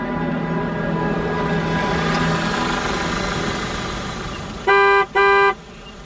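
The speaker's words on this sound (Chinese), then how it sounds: "别按喇叭了，我马上就走。" A car horn sounds twice in quick succession near the end, two loud sustained blasts, after several seconds of steady engine and traffic rumble.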